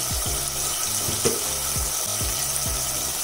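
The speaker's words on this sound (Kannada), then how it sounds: "1 ನಿಮಿಷ ಟೊಮೆಟೊ ಸಾಫ್ಟ್ ಆಗೋವರೆಗೂ ಹುರ್ಕೋಬೇಕು ಮೀಡಿಯಂ ಫ್ಲೇಮಲ್ಲೇ" Tomatoes fry in a pan over a medium flame for egg biryani, giving a steady close hiss of sizzling with soft, regular low bubbling pulses underneath.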